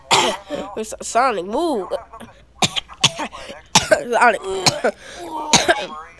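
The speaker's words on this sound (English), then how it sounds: "He's so sick, he coughed on me." A voice-acted coughing fit from a character in a Five Nights at Freddy's 3 gaming session, short loud bursts scattered among lively, playful talking from several voices.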